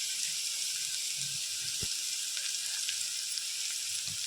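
Sautéed onion hisses and sizzles in a pan as a pinch of asafoetida goes in, a steady bright frying noise with one short clack of a utensil midway and no voices.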